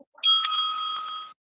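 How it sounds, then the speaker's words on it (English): A debate timekeeper strikes a bell once, a single bright ring that sustains evenly for about a second before being cut off, close and alone with no speech. "The timekeeper will ring the bell once"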